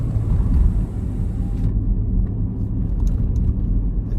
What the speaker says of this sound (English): This is one of the big fire trucks in front of us.